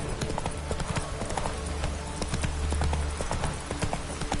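Roach, the horse in the video game Witcher 3, gallops with a fast, steady clip-clop of hooves up close, joined by brief whinny-like snorts.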